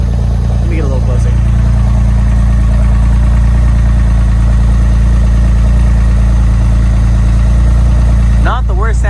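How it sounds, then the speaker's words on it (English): Close, steady deep idle of a Porsche 996 Turbo with an aftermarket Fabspeed Gen 1 exhaust and 100-cell cats, a low throbbing burble, with brief speech at the start and end. "Not the worst sounding exhaust in the world"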